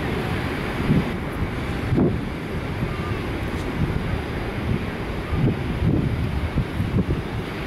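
Wind buffets the microphone at a beach in Portugal, with a constant rough roar of surf and waves underneath and occasional louder gusts.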